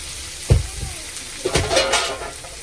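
Leafy greens cooking down in a pan over low gas, a soft sizzle with a few louder stirring scrapes and clatters against the pan, close and intermittent.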